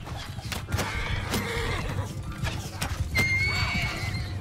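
Hooves clatter in a quick galloping rhythm while a horse lets out a shrill whinny in a medieval battle video game, amid a busy background of clashing and shouting.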